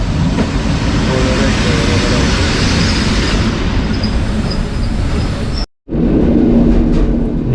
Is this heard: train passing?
yes